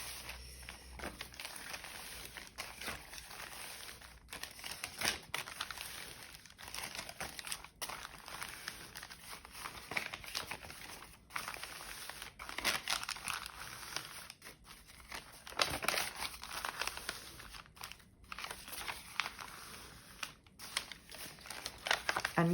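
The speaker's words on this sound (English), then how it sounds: "So I'm just going to fold these papers." Sheets of paper, repurposed from Amazon packaging, folded into a signature for a handmade journal, with a long run of soft crinkling, rustling and occasional sharp creasing snaps, close and fairly quiet.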